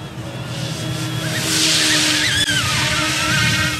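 An Eachine E250 AH-64 Apache RC helicopter flies close by, its rotor and motor whine rising and shifting in pitch as throttle changes, a steady loud buzz with no talking.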